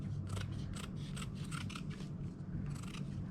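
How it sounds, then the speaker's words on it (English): Scissors snip through a craft template piece for an Easter basket bunny, a rapid series of close, crisp cuts over a steady rustle of handling, with no one speaking. "Let's just take that as a template and cut another piece."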